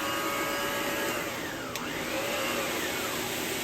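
A Lindhaus Healthcare Pro vacuum cleaner hums steadily with one of its two motors switched off. The constant whirring drone stays even throughout, with a brief tonal sweep midway.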